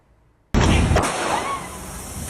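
A sudden loud police gunshot blast aimed at a red car's tyres during a roadside pursuit, one sharp report followed by a second crack and a long echoing noisy tail.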